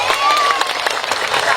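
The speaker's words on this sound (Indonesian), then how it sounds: "Tepuk tangan untuk perempuan" Audience at a Sundanese comic sermon claps for the women, a short burst of dense, steady applause with voices and a little cheering mixed through it.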